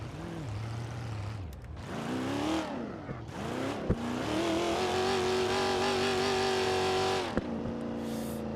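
A rough-running, hastily assembled car engine in BeamNG revs up and down in uneven surges, dipping and rising between steadier stretches of droning, held loud and close with no speech.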